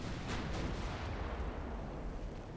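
Battleship main guns firing in the naval game Ultimate Admiral Dreadnoughts, with the ship Kentucky engaging: a heavy, continuous booming rumble with a few sharper cracks layered on top, loud and without talk.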